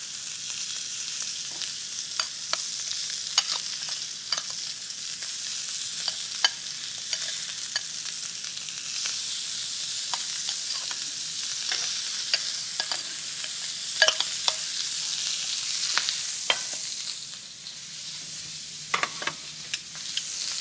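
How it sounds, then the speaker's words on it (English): A big thick steak and lamb chops sizzle on a hot grill, a steady crackling hiss with scattered pops and spits that holds close and fairly loud throughout, with no talk. "It's satisfying to hear that sizzle."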